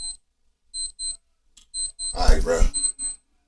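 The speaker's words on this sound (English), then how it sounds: "My damn alarm keep going on." An alarm goes off in short, repeated electronic beeping bursts at a steady rhythm, fairly close, while someone talks over part of it.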